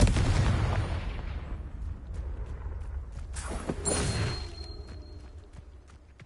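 Spell combat in the video game Hogwarts Legacy, with a loud booming blast at the start that trails off, then several sharp cracks and a second swelling burst near the middle, fading to a low rumble.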